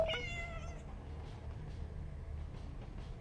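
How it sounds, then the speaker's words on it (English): A single video-game cat meow at the very start, then a steady low rumble continues underneath. "Do you hear the cat?"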